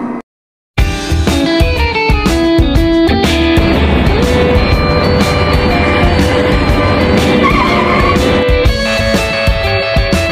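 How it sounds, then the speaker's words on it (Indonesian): A car braking to a stop at night: after a short silent gap, a loud continuous engine and tire noise with squealing and a rising skid-like tone, sustained close-up for several seconds, with no voices. "Mobil siapa ya? Kok berhenti depan aku?"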